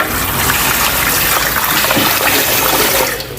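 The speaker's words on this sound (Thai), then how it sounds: "ฝางขนาดนี้ก็ใส่น้ำประมาณสองลิตรนะคะ" Roughly two litres of water pours steadily into a pot of sappan wood, a continuous gushing, splashing rush heard close and loud, alone without any talk, easing off right at the end.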